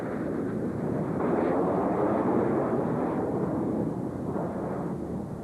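Two display jets roar past together in a synchro split at the 1994 F14 Halmstad 50th anniversary airshow, a loud, continuous, broadband jet rumble that swells and holds steady throughout.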